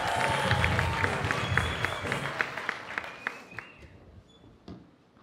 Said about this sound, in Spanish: Un aplauso regalitos. Duro para Ricardo,